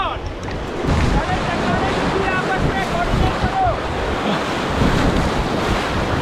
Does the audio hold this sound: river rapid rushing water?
yes